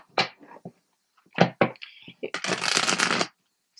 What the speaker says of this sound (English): I'll shuffle it once.